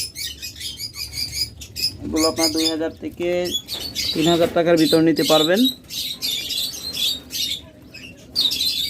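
Pet lovebirds, budgerigars and cockatiels kept as breeding birds chirp and tweet in quick bursts close by, mixed with someone talking over them.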